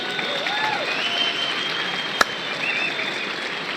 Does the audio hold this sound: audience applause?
yes